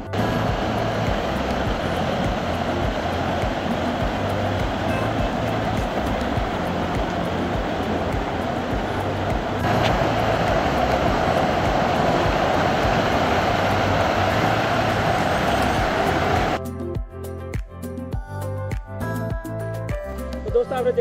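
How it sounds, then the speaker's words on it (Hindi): The Trikuti waterfall gives off a steady, loud broadband roar of falling water for most of the stretch, then drops away into quieter, choppier sound near the end. "ये त्रिकुटी का झरना एक बार आ गया है"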